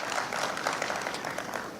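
An audience at a microfinance conference dinner applauds a speaker, a short burst of even, moderately loud clapping throughout.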